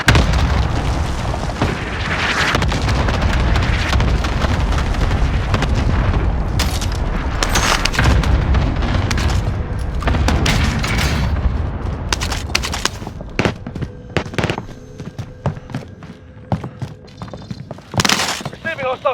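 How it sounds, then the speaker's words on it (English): An allied cluster strike in Warzone on Rebirth Island, with heavy booms and rumbling blasts rolling one after another, loud and dense, mixed with gunfire cracks and game voice callouts before thinning into scattered shots. "Allied cluster strike"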